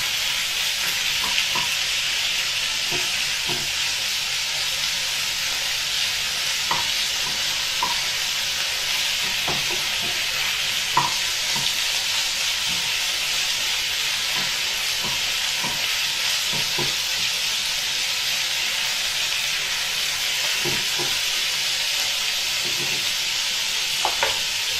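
Chicken pieces frying in rapeseed oil for a Thai red curry give a steady, close broadband sizzle, with occasional light clicks and stirring knocks from the pan throughout and no talking.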